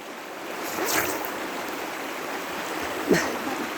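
Steady broadband rush of flowing water fills the clip, continuous and fairly close, with a couple of brief splashy bursts.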